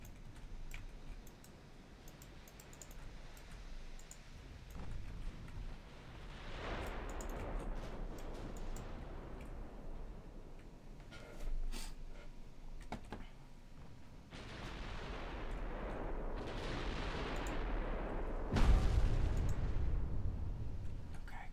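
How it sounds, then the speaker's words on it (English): Warship broadside gunfire in the naval battle game Ultimate Admiral Dreadnoughts, with several deep rumbling cannon blasts and long roaring swells, ending in a sharp heavy boom. "Perfect broadsides."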